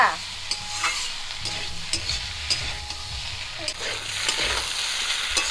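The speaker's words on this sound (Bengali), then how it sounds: "মশলা দিয়ে ডাটাগুলো একটু ভেজে নিয়েছি" Datashak stalks fry with spices in a pan, a steady close sizzle broken by repeated scraping stirs from a spoon.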